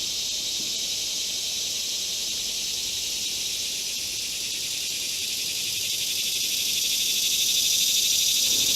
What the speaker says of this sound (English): there's a sound up in the trees. Those are cicadas, and at times they're very noisy.